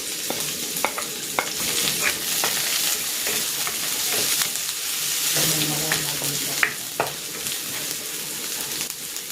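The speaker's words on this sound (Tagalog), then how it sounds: "Igigisa ko na tong bawang. At itong sibuyas." Garlic and onion sautéing in oil in a pan for pancit bihon, with a continuous sizzle and repeated sharp scrapes and clinks of a spatula stirring up close.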